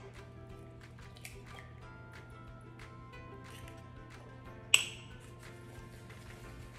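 An egg cracked against a bowl for muffin batter, a single sharp crack midway through a quiet kitchen, followed by a brief wet trickle as it drops in.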